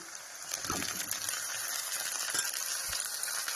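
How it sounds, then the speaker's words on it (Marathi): Tomatoes and coriander go into a pan of browned onions and crackle in a steady, quiet, close-up sizzle, with a couple of soft knocks and stirring scrapes and no voices. "आता त्यात टाकून घेते मी टमाटर आणि धनिया"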